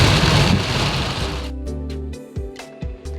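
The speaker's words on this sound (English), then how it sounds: "now it's raining heavily" Heavy rain pours in a dense, loud hiss for the first half, then stops abruptly and gives way to sparse ringing tones.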